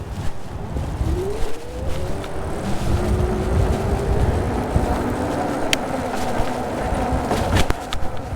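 Rad Power Radster Trail fat-tire electric bike with front suspension rolling over rough gravel, a continuous crunching, rattling rumble with sharp clicks and jolts from bumps.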